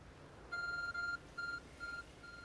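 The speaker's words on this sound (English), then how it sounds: "There's a glowing, beeping object over there" Glowing object in Pokémon Legends: Arceus gives off a clear electronic beep, a repeating pattern of bright tonal bleeps with short gaps, steady and moderately loud over a quiet game background.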